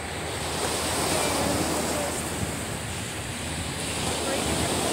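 Loud ocean waves break on Indian River beach, Florida, a dense, continuous roar of surf mixed with wind buffeting the microphone, steady and close throughout.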